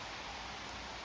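Rain falls outdoors in a continuous, even hiss of steady drops with no pauses.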